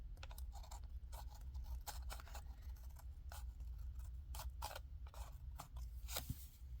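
Paper card being trimmed with scissors, giving a run of short crisp snips and scrapes at close range over a steady low hum.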